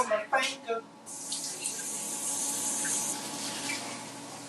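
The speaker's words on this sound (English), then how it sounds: "Wash my hands real quick." Water runs steadily from a kitchen tap for several seconds as hands are washed under it, the splashing hiss starting after a few short rustling knocks.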